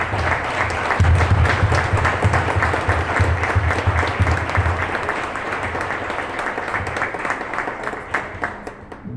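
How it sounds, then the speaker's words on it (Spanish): An audience at a Mexican judicial-reform conference applauds members of the federal and state judiciary, with dense, steady clapping that stays strong for the whole stretch and eases off slightly toward the end. "Va un fuertísimo aplauso"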